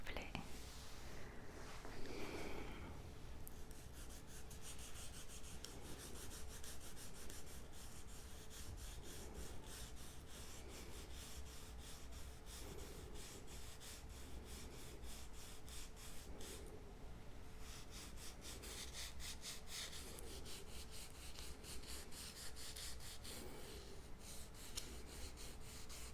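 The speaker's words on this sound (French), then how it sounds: "Mais oui, on va limer." Steady scratchy rasping of a nail file on false nails during a manicure, a close, soft, continuous scraping in repeated strokes with faint whispered voice at times.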